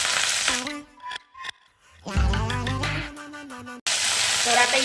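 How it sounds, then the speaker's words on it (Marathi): Okra cooks with garlic masala in a hot pan, giving a loud hissing sizzle at the start and end with a muffled, quieter stretch in between. "ही भेंडी टाकली यामुळे ते आहे पटकन शिजले जातात आणि आपला मसाला सुद्धा करपत नाही"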